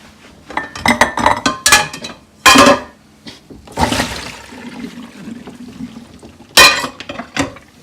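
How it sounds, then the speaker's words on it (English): Apples being drained in a kitchen: bursts of water pouring and splashing alongside clinking dishes and bowls, loud and close in irregular clusters with quieter stretches between. "then I'm going to drain the apples"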